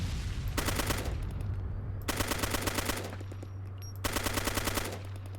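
An RPK machine gun in the video game ARMA 2 fires three sustained bursts of rapid automatic shots, each about a second long with short gaps between them, loud over a low steady engine-like hum.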